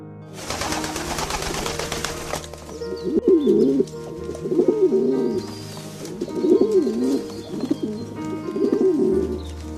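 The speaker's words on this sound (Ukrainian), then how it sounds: "Це голуб." A pigeon coos repeatedly, several soft throaty coos at a relaxed, even pace, close by and clear.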